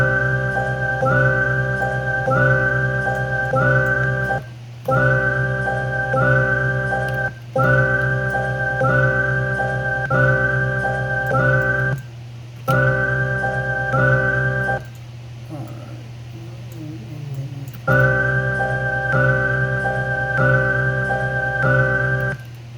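A whistled melodic sample loops in a beat under construction, repeating phrase after phrase over a steady low bass drone, with brief gaps where the loop is cut and restarted.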